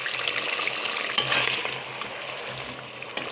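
Chicken simmering in its own released juices for a spicy Marathi chicken rassa, giving a soft bubbling sizzle with a brief stirring scrape partway through, close and moderately quiet.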